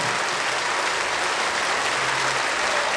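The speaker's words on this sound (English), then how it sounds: "can you clap your hands loud?" A church congregation claps its hands loudly, a dense, even roar of many hands filling the whole moment without pause.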